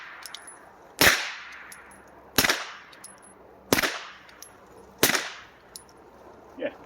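Four handgun shots go off at a shooting range, evenly spaced about a second apart. Each is a loud, sharp crack that rings out into a short fading echo, with a small clink near the end.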